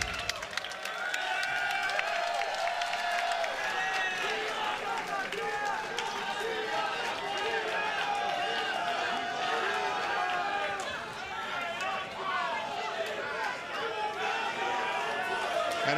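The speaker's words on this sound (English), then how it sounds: "You can hear the response from the crowd for our biggest event of the year, Bound for Glory." A wrestling arena crowd in Chicago roars and cheers continuously at a big event, a dense, steady wall of voices throughout.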